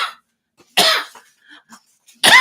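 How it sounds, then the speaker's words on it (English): Several sharp coughs from one person, loud and close, with a burst at the start, a strong cough near the middle, and another at the end separated by small throat sounds. "I'm afraid I have a bit of a cough today"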